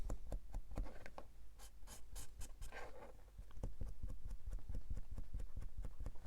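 A pen scratches across paper in a collage journal in quick, rhythmic strokes close up, with a short pause midway before the writing resumes steadily.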